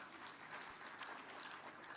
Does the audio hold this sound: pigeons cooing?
no